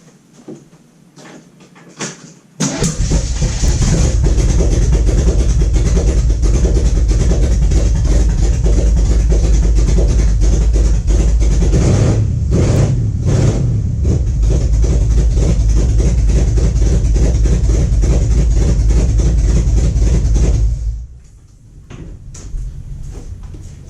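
A loud, rumbling V8 engine with open headers in an S10 pickup roars to life after a quiet moment, running rough and throaty without muffling, then drops off sharply near the end.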